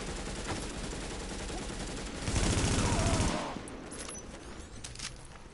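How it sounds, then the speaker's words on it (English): Suppressive gunfire in The Division, a dense sustained burst of automatic fire over constant background game noise, swelling briefly and then dropping back. "Suppressive fire now."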